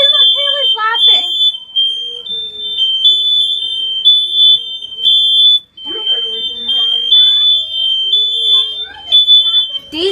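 A household smoke alarm sounds a shrill, high beep that repeats in long pulses with short gaps, loud and close, while a voice and other voices talk and laugh over it.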